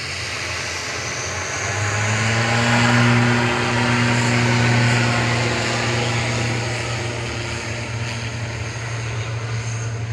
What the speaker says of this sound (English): Etihad's 777's going across 2-3 right now.